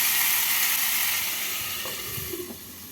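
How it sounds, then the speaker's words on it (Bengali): Ridge gourd, pointed gourd and broad beans fry in a pan with a steady, loud, even sizzle and hiss throughout, plus a couple of faint clinks near the end. "ঝিঙে পটল আর বটবটিকে হালকা করে ভেজে নিলাম"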